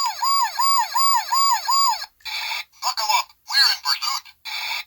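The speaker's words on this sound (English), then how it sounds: "they kind of traded a voice line for just more sirens" A Tonka Transformers police car toy plays an electronic siren at close range, first a rising and falling wail and then short bursts of a different warbling siren pattern separated by brief silences.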